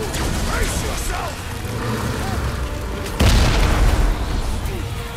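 A loud boom in Guardians of the Galaxy as the core is blown apart, a sudden dense blast that cuts through ongoing rumbling combat noise and lingers as a heavy roar.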